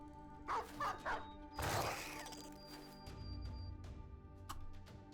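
Dogs barking in the fantasy strategy game Battle Brothers, a few quick faint yips followed by a louder burst of clashing battle noise, all under game music.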